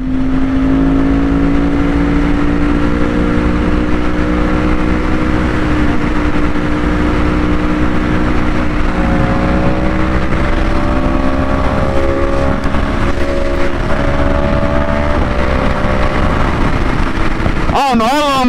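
Yamaha R1 sport motorcycle engine running steadily and loud up close, its pitch rising and falling with revs, ending with a sharp burst of acceleration.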